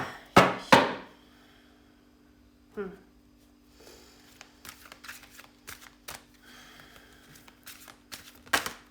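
A few sharp taps and clacks, then a series of quick, light riffling snaps like playing cards being shuffled, close and fairly quiet over a faint steady hum.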